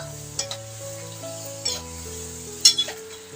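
A tomato-based evening snack mix frying in a pan on low flame is stirred back and forth, with soft scraping strokes and a few sharper clinks over a quiet, steady sizzle and faint sustained background tones.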